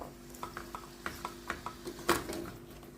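A spoon stirs beets, carrots, endives and red onions in a pan, giving a series of soft rhythmic scrapes and light clinks, one louder knock near the end, over a faint background hum.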